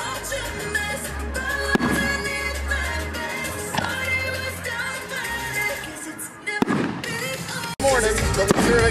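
Booming bursts and crackling fireworks fill the air continuously at a night event of an RC car festival, with louder sharp pops near the end and a faint murmur of voices underneath.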